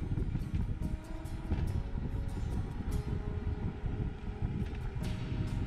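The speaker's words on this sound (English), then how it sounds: "The motor on this bike is a bit noisy as I wind up on flat ground in 7th gear" A Lectric eBike motor at full throttle on flat ground in 7th gear gives a continuous whirring drone buried under heavy wind rush, fairly loud and steady throughout.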